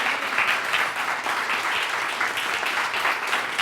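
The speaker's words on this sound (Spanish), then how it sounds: "denle el aplauso al Señor" Church congregation applauding the Lord during a sermon, steady dense clapping throughout, fairly close and even in loudness, with no voices over it.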